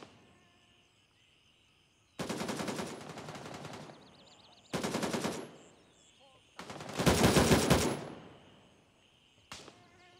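Bursts of automatic gunfire in the tactical shooter video game Gray Zone Warfare, three long loud volleys a couple of seconds each separated by quieter pauses, with a short final burst, no talking.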